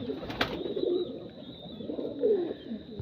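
Racing pigeons coo in low, soft, rolling phrases, one near the start and another toward the end, over a steady faint background hum.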